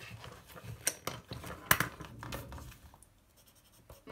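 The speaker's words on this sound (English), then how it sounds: "So, actually, I'll write them in here." Pen scratching in a paper notebook while goals are written, with a few close, short scribbling strokes and page handling, fading toward the end.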